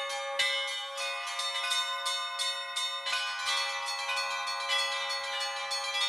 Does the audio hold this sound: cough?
no